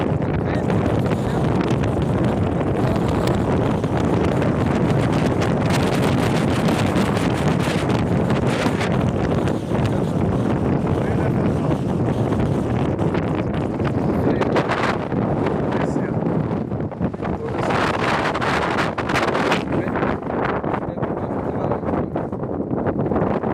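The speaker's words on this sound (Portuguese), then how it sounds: "a gente nem conseguia se ouvir de tanto vento que estava." Strong wind roars continuously across an exposed outdoor crossing in New Zealand, a loud, unbroken rushing buffet against the microphone with no letup.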